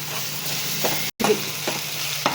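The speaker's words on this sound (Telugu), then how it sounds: "వేగిందండి వాసన పోయే వరకు వేగించుకోవాలి" Ginger-garlic paste frying with chicken in a pan for an Andhra-style chicken fry gives a loud, continuous close sizzle and scraping stir, briefly cut off once, with no voices.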